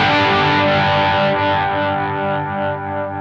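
Electric guitar run through a Gokko Super Chorus analog stereo chorus pedal into a Marshall amp channel, giving a loud, sustained distorted tone with a shimmering chorus wash that fades slightly toward the end.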